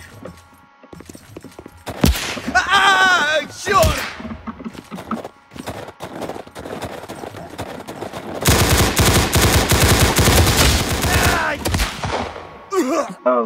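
Gunfire in the Roblox game Unit: Classified, with scattered single shots followed by a long, loud burst of rapid automatic fire, and a player's brief exclamations in between.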